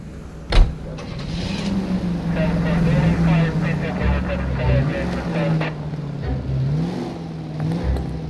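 A car drives through the streets in the video game L.A. Noire, its engine humming steadily with shifting revs after a brief thump at the start, while voices talk over it.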